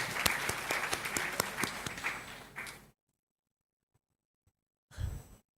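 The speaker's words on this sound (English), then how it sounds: "A big round of applause to each one of you here" Audience applause at a management institute orientation, a dense burst of clapping with some sharper individual claps that stops abruptly, followed by near silence and a brief muffled thump near the end.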